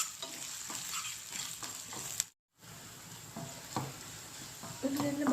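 Ginger paste sizzling with onions in a pan for a spinach chicken curry, a continuous frying hiss with stirring scrapes, briefly cut off midway, then resuming louder.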